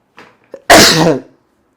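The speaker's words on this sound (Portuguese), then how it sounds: "Deixa eu espirrar." A single loud, close sneeze bursts out after a couple of quick sharp inhales, then silence.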